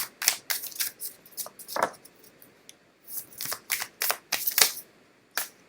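Tarot cards are shuffled by hand in quick bursts, crisp riffling and flicking sounds coming in irregular clusters with short pauses between, close and clear.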